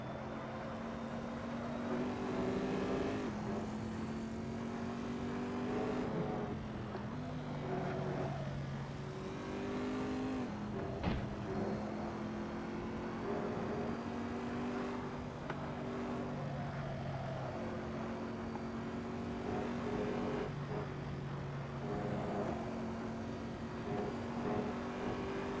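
Several race cars in Assetto Corsa sim racing during an SRS online race, engines droning and shifting through gears as they battle and overtake, a steady, loud, layered roar with rising and falling pitches and no talk.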